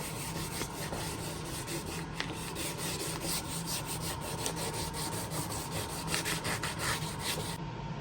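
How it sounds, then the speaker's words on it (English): Steady rhythmic sanding rasps back and forth over a truck's passenger-side body panel during prep for paint, close and continuous with brief pauses, no voices. "I'm just sanding it down real quick"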